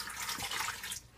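About a cup of water pours into a pressure cooker pot for mashed potatoes, a steady close splash and trickle that cuts off abruptly near the end.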